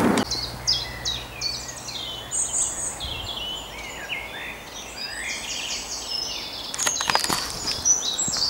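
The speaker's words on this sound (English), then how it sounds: "Listen to that, beautiful, innit? Bird song of the North Wales countryside." Small birds chirp and sing now and then over a soft, steady outdoor background in the North Wales countryside.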